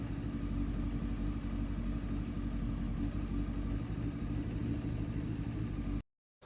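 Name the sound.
Honda CBR900RR Fireblade motorcycle engine running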